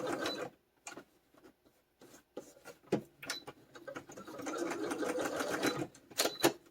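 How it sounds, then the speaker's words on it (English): A sewing machine stitches all the way around a paper tag on a collaged book page pocket, running in quick rattling bursts with short pauses between them, close and fairly quiet. "I'm going to sew all the way around the tag for a more finished look"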